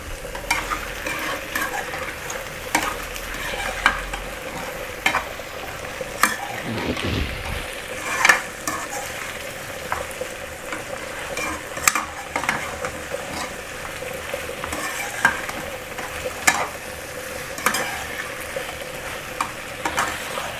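Crab frying in a pan with steady sizzling and repeated scraping, stirring knocks throughout, close and fairly loud with no talk.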